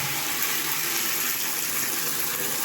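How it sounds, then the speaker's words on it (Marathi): Water runs hard from a tap during cleaning of a bungalow, a dense, steady close-up gush that fills the whole clip with no pauses and no talk. "पाणी चालू इकडं बघा"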